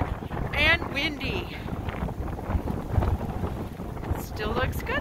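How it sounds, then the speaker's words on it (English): Strong, bitterly cold winter wind buffets and roars across the microphone by a rock breakwall, with people talking now and then over the rushing gusts. "And windy."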